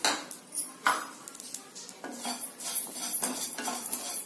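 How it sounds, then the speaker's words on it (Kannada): Coriander seeds dry-roasting in a pan for Karnataka-style Bisi Bele Bath powder, with a steady run of light metallic scrapes and clinks as a utensil stirs them, fairly close and with no voices. "ಈಗ ಮೊದಲು ಒಂದು ಪ್ಯಾನ್ ಇಟ್ಟಿದ್ದೀನಿ ಈಗ ಮೊದಲು ಧನಿಯಾನ ಹುರ್ಕೊಳ್ಳೋಣ"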